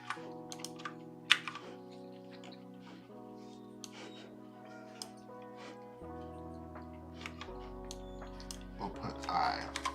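Intermittent keystrokes on a computer keyboard sound faint and sparse over a steady backdrop of sustained background music.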